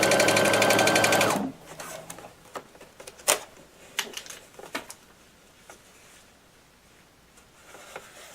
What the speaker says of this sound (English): I got my zipper foot in, I got my machine set to a basting stitch